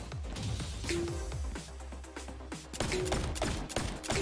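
Enemy gunfire in the video game Wrack Exoverse crackles as a rapid run of sharp shots, dense and fairly loud, with scattered bursts repeating through the moment and no talking.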